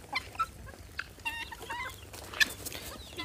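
White guinea fowl on a farm give short, scattered clucks and chirps at moderate distance, some overlapping, over a low background rumble.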